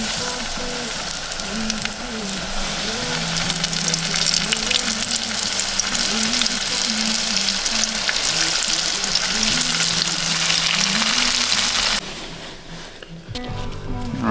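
Seasoned cuttlefish strips fry in a pan at a beach campsite, giving a steady, dense sizzle that carries on for about twelve seconds and then drops away sharply. Low voices and other sounds run underneath.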